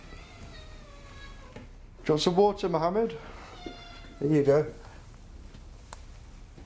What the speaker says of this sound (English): Yeah, that's my cat, yeah. Always crying, he is.